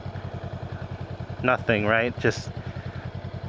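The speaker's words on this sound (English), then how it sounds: "Let's go back to just idling." A 2025 Honda Rebel 500 idles in a parking lot with a steady, even low-pitched putter that continues throughout, while a person speaks briefly over it.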